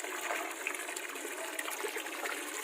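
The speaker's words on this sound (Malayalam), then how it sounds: "വെള്ളം തന്നെ ഇതിനകത്ത് അടിച്ച് ഒന്ന് നിറച്ചെടുക്കാം." Water is pumped into an old tank being filled for raising Chitralada tilapia, making a continuous close rush and splash with small bubbling trickles throughout.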